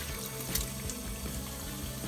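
Water runs from a kitchen tap over saltfish being rinsed to wash off salt. It is a steady, soft stream with faint splashing throughout.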